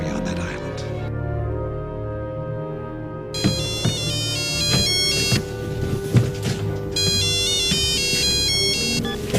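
A telephone rings with a steady electronic ringtone, a bright repeating warble that plays loudly over background music and movie sound.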